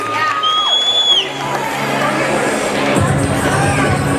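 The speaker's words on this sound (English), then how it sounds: "Let's give a big round of applause for the Marfan Foundation and all the important work they're doing with genetic disorders here in Houston." A roller derby crowd in Houston cheers and applauds after an announcement, with whoops, shouting and general hubbub heard from a distance. A whistle-like tone rises and falls early, and the cheering swells near the end.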